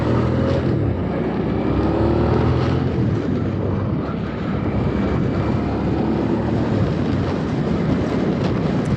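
A Hyosung GV650 Aquila cruiser motorcycle ridden at normal pace in traffic, its engine a loud, steady drone mixed with wind rush and road noise, continuous and close without any pauses or speech.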